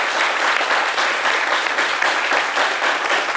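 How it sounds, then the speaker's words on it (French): An audience at a midday talk show applauds, producing a continuous, even wash of many hands clapping, loud and near, unbroken across several seconds. "On vous applaudit encore une nouvelle fois."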